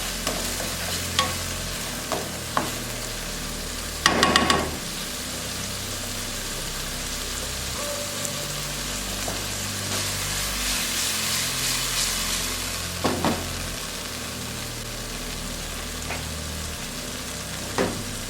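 Ackee and saltfish sautéing in a pan, a constant soft sizzle with occasional scraping clatters from turning the food, heard alone at close range.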